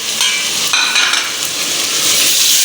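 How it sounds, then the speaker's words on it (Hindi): Three medium tomatoes go into a pan of browned onions and ginger-garlic paste for aloo keema, setting off a loud, steady sizzle with close stirring scrapes throughout and no talking. "अब मैं इसमें डालूंगी मीडियम साइज के ये 3 टमाटर"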